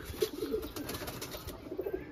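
Pigeons in a fancier's home loft coo softly, a pair newly settled together, with several low, rounded coos repeating at an easy rhythm over a faint, steady background hum.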